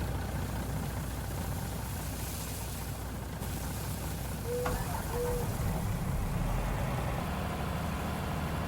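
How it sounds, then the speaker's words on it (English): Farm truck engine left idling during grain unloading, a steady low rumble throughout, with a brief squeak and a little background noise. "Might as well leave the truck running."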